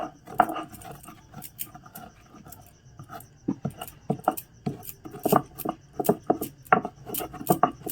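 Hajmola tablets being ground on a stone grinding slab (shil): irregular close scraping and gritty tapping strokes that grow denser and louder toward the end, with no talking.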